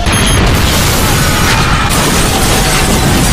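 An explosion rips through the state palace in the film City Hunter (2011), a loud sustained roaring blast of dense rumble and debris noise that fills the whole stretch without pause.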